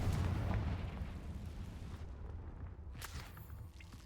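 A Confringo spell goes off in a video game as a loud, dense blast that rumbles on and slowly fades, with a sharper crack near the end as the roar thins out.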